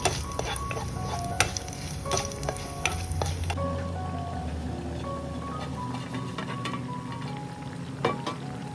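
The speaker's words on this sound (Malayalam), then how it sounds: "ഉള്ളി ഒന്ന് ചൂടായി വരുന്ന സമയം ഇതിലേക്ക് 2 വറ്റൽമുളക് കൂടെ ചേർത്ത് നന്നായി ഒന്ന് ചൂടാക്കി എടുക്കാം." Onions, curry leaves and two dried red chillies fry in hot oil in a pan for a chicken curry tempering, a continuous sizzle broken by sharp clinks and scrapes of a spoon stirring.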